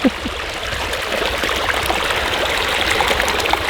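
A steady, rushing flow of water pouring out close by from a thawed, previously frozen water pipe in winter, continuous and fairly loud with no voices.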